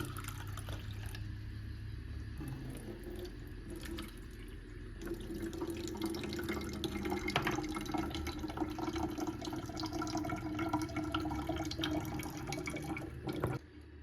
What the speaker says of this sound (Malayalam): ഈ വെള്ളം ഒന്ന് ഇതിലേക്ക് അരിച്ചെടുക്കാം.